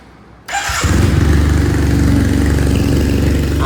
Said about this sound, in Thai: เดี๋ยวสตาร์ทให้ฟังเสียงเครื่องยนต์ดีกว่า